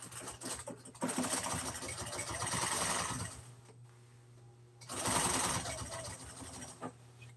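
A sewing machine stitches a seam straight across fabric, running in two bursts of steady, close mechanical whirring and clatter separated by a short quieter pause.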